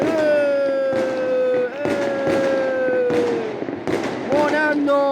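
New Year's Eve fireworks go off across the town of Quartu Sant'Elena, Sardinia, with repeated sharp bangs and crackles at varying distances while voices talk and a whistling, droning tone runs underneath.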